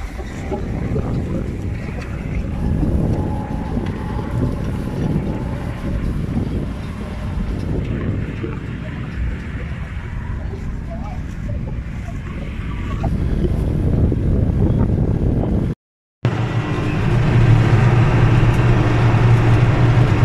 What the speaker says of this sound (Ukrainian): Такий прес з трактором